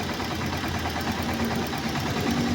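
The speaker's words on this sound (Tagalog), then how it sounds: "Narinig nyo yung lagapak ng motor ko." A motorcycle engine with a worn clutch housing runs steadily at idle close up, giving off a continuous rough, rattling knock with no pauses.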